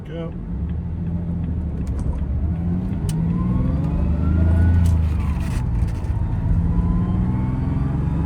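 A 1996 Jaguar XJ6 with a five-speed manual gearbox accelerating on the road, engine note rising steadily in pitch and loudness to a peak, then easing back, heard from inside the cabin.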